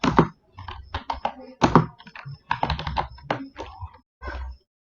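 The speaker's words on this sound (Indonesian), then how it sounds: "Lalu kita ketik MySQL," The word MySQL is typed on a computer keyboard at a command prompt, with close, loud keystroke clatter in quick bursts separated by short pauses.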